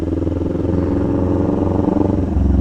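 A motorcycle engine chugs close by, pulsing as it is throttled up to about 20 miles an hour and then eased into engine braking, the beat loosening and rising near the end; no one talks.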